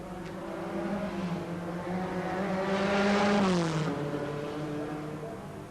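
A Lotus 11 race car at the Dun Laoghaire road races approaches with a rising engine note, peaks as it passes close by, then drops in pitch and fades as it pulls away.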